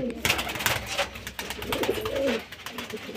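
Pigeons coo close by in low, throaty rolling calls that repeat through the clip, mixed with fluttery bird noises and faint background voices.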